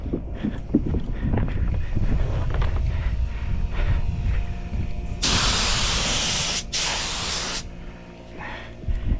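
Spray gun laying a second coat of paint on a Honda Civic outdoors in wind, two sharp bursts of loud hiss close by, separated by a brief pause, over low wind rumble and background noise.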